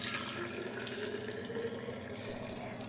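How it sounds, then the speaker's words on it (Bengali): Hot water poured into a flask, a steady continuous splashing and gurgling pour, close and fairly faint, with no talk. "গরম জলটা ফ্ল্যাক্সের মধ্যে ঢেলে নিচ্ছি"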